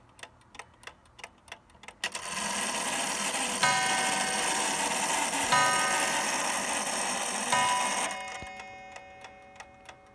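A 1917 Ingraham mantel clock ticks steadily, then its striking mechanism whirs loudly and sounds three chimes on the lower chime. The ticking resumes as the mechanism winds down.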